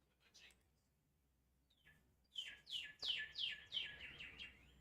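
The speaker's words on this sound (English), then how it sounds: "Birds are chirping." Birds chirp at a college baseball stadium at sunset, a quick series of bright, sweeping tweets that grows louder and repeats rhythmically over faint ballpark ambience.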